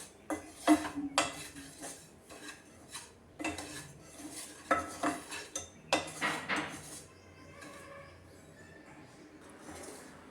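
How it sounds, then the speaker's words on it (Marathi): Semolina roasting in a pan over a medium flame, with jaggery melting alongside; repeated metallic scrapes and clinks of a spoon stirring against the pan come in uneven bursts, loud and close, with quieter stretches between. "तोपर्यंत आपण ते विरघळेपर्यंत रवा परतून घेऊया."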